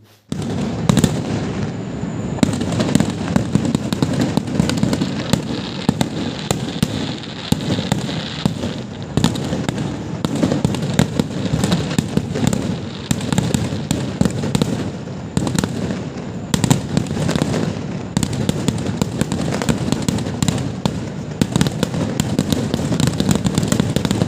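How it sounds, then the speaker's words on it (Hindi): A fireworks display of many colours crackles and bursts nonstop, with dense rapid pops and loud booms layered over one another in a continuous barrage. "सबसे पहले आप इस आतिशबाजी वीडियो को पूरा देखिए"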